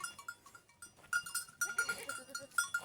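Goats bleat in a rural African village yard, several overlapping wavering calls close by, mixed with light clinking and rustling, while a person talks faintly in the background.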